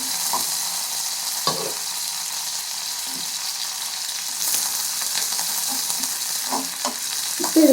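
Cashews frying in oil in a pan for white pongal give a steady close sizzle, broken by occasional scraping stirs and small clinks, with no voices.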